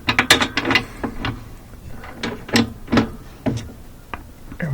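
A 20 mm bolt is worked loose from the frame of a Whirlpool laundry center washer: a quick run of metallic ratchet clicks and clunks, close and fairly loud, in short bursts with brief gaps.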